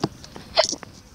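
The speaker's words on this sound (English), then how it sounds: "I have hiccups," A single sharp hiccup opens, followed by a few fainter breathy catches and small vocal hiccup-like sounds from someone walking outdoors, close and brief, with quiet background.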